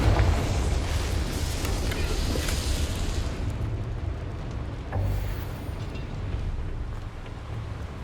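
A Confringo blasting spell in Hogwarts Legacy erupts as a loud, rumbling explosion that starts the clip at full force, fades a little, then swells with a second burst midway before dying into a low roar.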